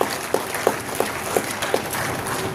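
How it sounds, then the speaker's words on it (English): Applause in a hall for a welcomed guest at an urban development event in Bihar, a steady wash of many hands clapping with a few sharper claps standing out, fairly distant and moderately loud. "with a big round of applause"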